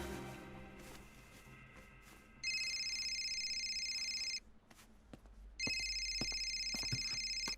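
A telephone rings in two long electronic bursts separated by a pause, over a quiet room background.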